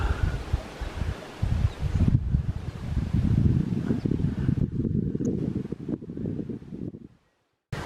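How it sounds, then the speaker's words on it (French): Gusty wind over a mountain lake surface at Les Bouillouses, 2194 m, buffets the microphone in low rumbling waves, with a faint rustling hiss, then briefly drops to near silence before picking up again. "il y a des petits coups de vent là, juste en surface là"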